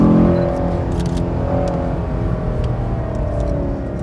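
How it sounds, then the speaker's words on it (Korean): A Chevrolet Camaro SS with a 6.2-liter naturally aspirated engine on a racing circuit: close, sustained engine and exhaust drone with steady tonal harmonics throughout, no voices. "자연흡기 엔진의 그 자연스러운 그 엔진음, 엔진 배기음"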